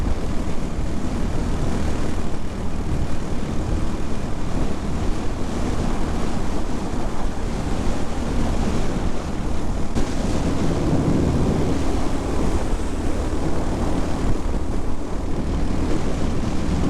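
A Royal Enfield Hunter 350 motorcycle cruises at 100 km/h, heard as a steady roar of wind buffeting and low engine drone that stays loud and constant throughout.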